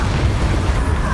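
Expulso explosion spell from the video game Hogwarts Legacy: a heavy, low booming burst that rumbles loudly and evenly through the brief moment, with no voice over it.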